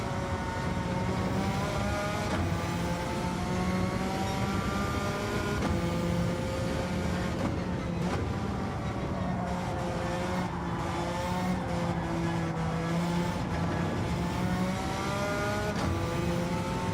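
Race car engine in Gran Turismo 7 lobby racing, loud and continuous, with repeated revving rises and gear-shift drops, rising and falling pitch throughout, no talk.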